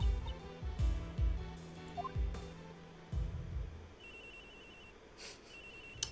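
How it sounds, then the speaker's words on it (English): A phone ringtone in the video game Miles Edgeworth Investigations 2, electronic tonal ringing bursts in the latter half over low game music thumps, fairly quiet. "My phone wasn't on silent."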